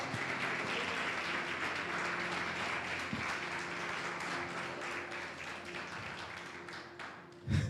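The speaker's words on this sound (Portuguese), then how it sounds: "aplauda o Senhor" A church congregation applauding, a dense continuous wash of clapping that carries on steadily and fades slightly toward the end, with a low hum running underneath.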